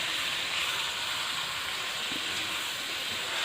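Minced meat (keema) frying over medium heat in oil with onion and ginger-garlic paste, a steady broadband hiss and sizzle holding even throughout with no talk.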